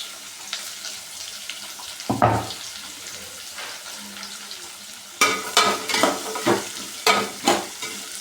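Chopped onions frying with cumin in hot oil for brinjal sambar, a steady sizzle broken by loud rhythmic stirring scrapes, one near two seconds and then a quick regular series of strokes near the end.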